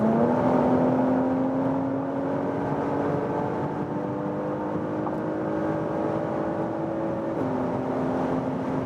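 A 2022 Porsche Macan GTS cruises at about 150 km/h, giving a steady loud cabin drone of engine hum, tyre rumble and wind noise. A sustained engine tone shifts slightly partway through, and nobody talks.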